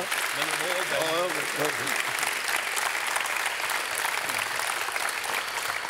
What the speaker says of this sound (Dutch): Je krijgt een applaus van iedereen.